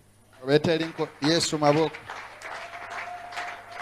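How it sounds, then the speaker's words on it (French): A church congregation claps during a worship service. A voice speaks first, then sustained applause carries on as a broad, continuous wash of clapping. "Acclamons Jésus"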